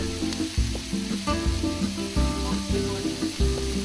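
Chopped peppers and garlic sauté in a hot pan for paella, a steady sizzle and crackle punctuated by repeated scrapes and knocks of stirring, close and fairly loud with no talk.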